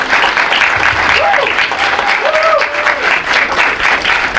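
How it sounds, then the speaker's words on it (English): Audience applauding at a school signing ceremony for a track and field athlete, loud close clapping with a few brief cheers or voices rising over it. "I want to give a big round of applause to the Bibiu family"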